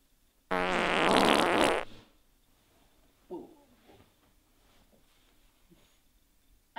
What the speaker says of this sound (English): You farted, right?